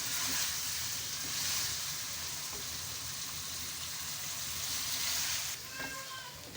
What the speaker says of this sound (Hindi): मुसलसल हमने थोड़ी सी देर और इसे भूनना है, फिर इसे हम डिश आउट कर लेंगे